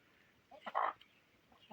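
A chicken gives a short, squawking cluck, nearby and brief, with a few faint softer clucks around it.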